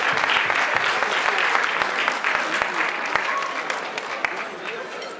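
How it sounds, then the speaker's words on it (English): A large audience at a charity foundation launch dinner claps loudly and continuously, a dense steady wash of applause with scattered sharper claps throughout. "Give a huge round of applause to Naeem Raza"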